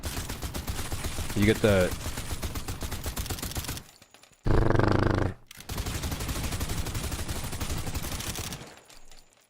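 Rapid bursts of gunfire from a secondary gun in the video game Suit for Hire, loud and dense, cutting out briefly before resuming, with a voice speaking over it.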